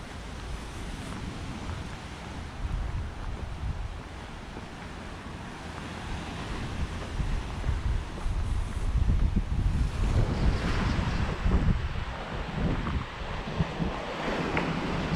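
Sea waves wash onto the beach near Palmanova in February, a continuous roar of surf mixed with heavy wind buffeting the microphone, swelling louder partway through.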